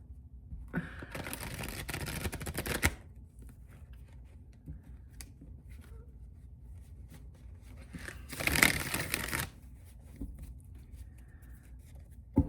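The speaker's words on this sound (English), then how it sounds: "I am going to shuffle this whole beast together." Two bursts of rapid riffling, a few seconds each, like a deck of cards being shuffled close by, with quiet handling between them.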